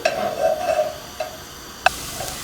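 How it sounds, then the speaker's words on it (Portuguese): Garlic sautés in olive oil in a pan, giving a soft, close sizzle with a few small clicks and taps from a utensil. "Vamos então primeiro refogar aqui o alho."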